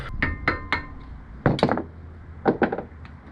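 Metal clinks and taps while a circlip is popped off a 105 Series Land Cruiser swivel hub: three quick knocks, a louder cluster of scraping clinks, then a final short rattle, all close up.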